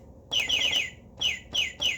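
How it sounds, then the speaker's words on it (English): Electronic keyboard bird sound effect: bright synthetic chirps in quick repeated bursts, a run of four followed by three more, loud and close. "Then we've got the bird."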